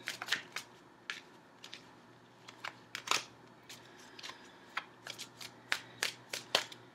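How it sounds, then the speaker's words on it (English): Tarot cards are handled and drawn from a deck during a relationship reading, giving a quiet run of crisp, irregular snaps and shuffling flicks with short pauses, close and alone with no talk. "So let's pull an outcome card."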